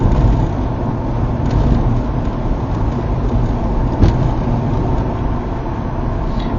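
Steady engine and road rumble from inside a car during a driving lesson, a continuous loud drone that holds even throughout with no talk.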